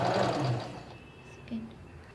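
A sewing machine stitches piping onto a kurti collar in a short, soft run of stitching, close and fairly quiet, easing off toward the end.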